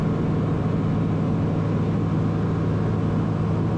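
A small STOL aircraft's engine drones loud and steady from inside the cabin during the takeoff roll, a continuous low rumble with no talk.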